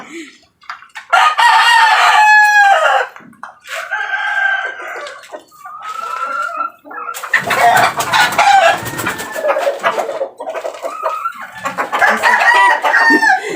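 Gamefowl stags and hens cluck and crow loudly and close by, with several rooster crows rising over steady clucking throughout.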